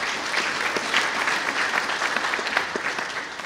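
Applause from a concert audience at a youth jazz orchestra spring concert, a dense, even patter of many hands clapping throughout with no voices over it.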